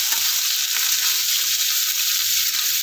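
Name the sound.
onions frying in pan until brown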